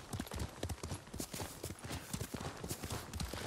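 A horse's hooves clip-clop in a steady, fast gallop rhythm in Ghost of Tsushima, fairly faint and continuous with a soft rushing background and no voices.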